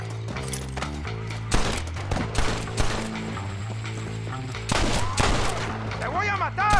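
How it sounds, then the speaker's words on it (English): Gunfire rattles through a Red Dead Redemption shootout, with sharp single shots and quick volleys cracking over a sustained musical score, some reports near and loud, others more distant. "We'll shoot our way in there."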